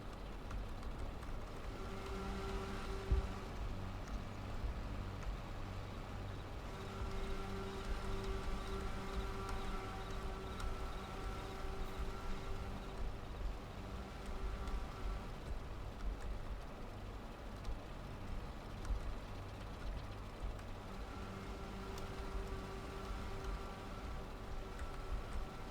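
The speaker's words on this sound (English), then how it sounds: "in this game they finally added the sounds of an actual chopper blowing chaff into the wagon" Dion forage chopper in Farming Simulator 22 blowing chaff into a wagon on the Westby Wisconsin map: a steady, dense rushing hiss with a low rumble underneath, continuous and fairly even throughout.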